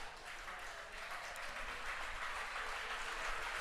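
A baseball crowd at a state semifinal game cheers steadily for a Perkins pitcher with two outs, a continuous wash of applause and noise at a moderate, distant level.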